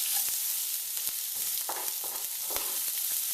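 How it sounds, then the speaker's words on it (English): Chopped onion and garlic sizzling in a hot pan, a steady bright crackling hiss with occasional sharper pops and stirring clicks, close and continuous with no talking. "Are you guys hearing that sizzle?"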